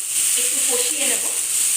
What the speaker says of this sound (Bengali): হালকা একটু কষিয়ে নেব, ফ্রাই করে নেব